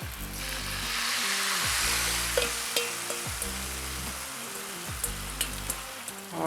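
Eggs frying in butter for an omelet, a loud continuous sizzle with repeated scraping and stirring strokes from a utensil in the pan, and no talking.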